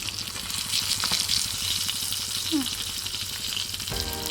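Prawns sizzle steadily while frying in a pan at home, a dense continuous crackle holding evenly throughout with a brief clatter near the end.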